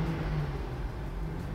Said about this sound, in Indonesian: sudah juga mengganti bagian knalpot dari mobil ini, sehingga suaranya itu terdengar sedikit rusuh atau gemuruh